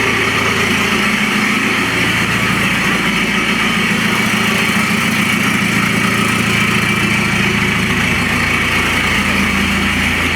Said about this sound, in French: quand j'ai retiré l'échappement intégral, il y a ce bruit là